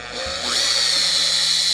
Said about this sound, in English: I'm in the process right now of drilling the holes in the brackets